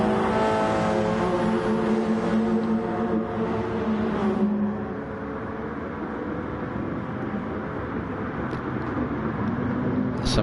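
Race cars drive through a slow corner in a PS4 racing video game, with a loud continuous engine drone, revs rising and falling, and other cars close by.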